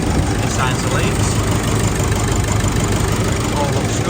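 A Nissan Navara D40 with the 2.5 dCi diesel engine idles after a fuel filter change and priming, a loud, close, rough and even clatter that runs on steadily without cutting out.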